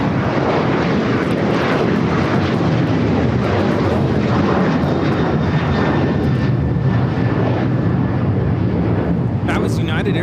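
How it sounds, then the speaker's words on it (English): A United Airlines Boeing 737-900ER takes off, its jet engines a loud, sustained roar building close by, with voices talking underneath. "That was United Airlines 1635 taking off to Washington Dulles on the 737-900ER."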